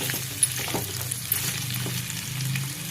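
Green beans and carrots roast in a hot pan for fried rice, giving a steady close sizzle with occasional stirring scrapes, no voices.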